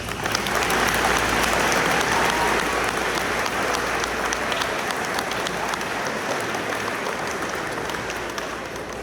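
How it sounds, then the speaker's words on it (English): Sustained applause from a large audience at a fourth-grade graduation, a dense wash of clapping that holds strong throughout and tapers only slightly toward the end. "Let's give these guys a huge round of applause."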